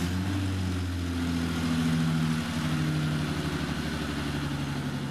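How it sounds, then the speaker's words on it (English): A BMW E30 Touring's M20 engine runs steadily at idle during a restoration, its low mid-pitched drone loud and continuous with a faint uneven pulse and no talking. "The more I start it, the more the M20 is starting to sound like a normal engine."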